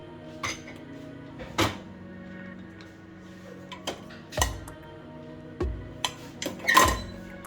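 Washed pots and plates taken from a Siemens dishwasher clink and knock in a quiet kitchen, with several sharp scattered clatters spread irregularly over the stretch and no talking.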